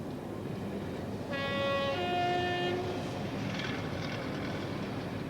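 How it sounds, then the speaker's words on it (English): Diesel multiple unit passenger train from Cambridge crossing the new Trowse Swing Bridge, a moderate rumble of rolling stock with a two-tone horn sounding mid-clip for about a second and a half. "The first train to cross with passengers is a DMU,"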